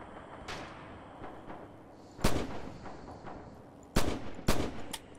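Rifle fire from Red Orchestra 2, a World War II shooter played with a German scoped G-41, cracks out in sharp, loud single shots, with a quick pair near the end and fainter distant gunfire between them.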